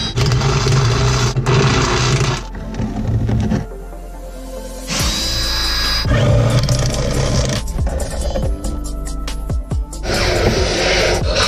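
Loud, grinding power drilling through a car floor comes in repeated bursts with brief pauses between, harsh and close, biting through metal, while installing a racing harness.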